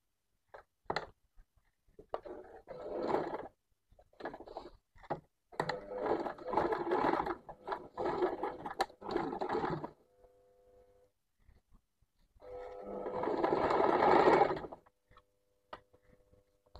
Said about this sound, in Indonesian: Nah, dijahit dulu bagian ininya